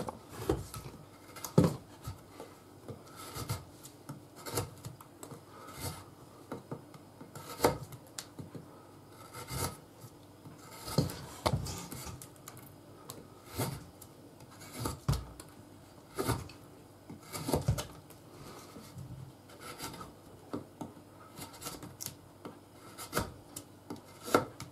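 Knife blade, freshly sharpened to 20 degrees, carving into dry rowan wood that may be slightly damp inside a thick piece: repeated close rasping, scraping strokes in an irregular rhythm, fairly quiet, with no talking.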